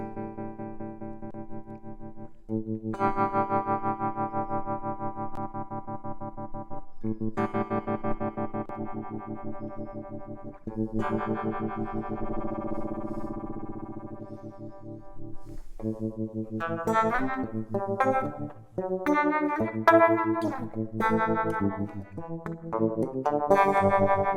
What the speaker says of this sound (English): that's the tremolo pedal